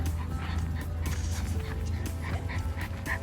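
A small dog barks and yips in quick uneven bursts, with a few whimpers, over steady background noise on a family trip in Cabo San Lucas.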